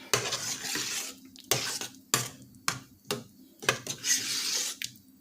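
A spoon scrapes and clinks against a pot of Jamaican cornmeal porridge in a series of sharp, close strokes every half second or so, with no voices.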